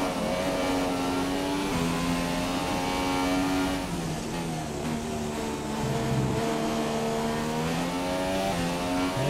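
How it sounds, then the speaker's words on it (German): A Formula 1 race car in the F1 2017 game drifting through a corner at the United States Grand Prix, its engine note holding a loud, steady high whine that dips and climbs with revs, with faint tyre scrub underneath. "Da bin ich am Driften."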